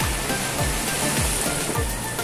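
Sea waves wash over sand at a beach in Rayong, Thailand, where people dig for clams; a steady, close rushing wash with rhythmic low surges repeating roughly every half second.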